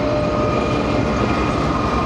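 Rail noise from a locomotive pulling away at a station with a luggage van in tow: a steady, dense rumble and hiss running through the whole stretch, with no talk over it.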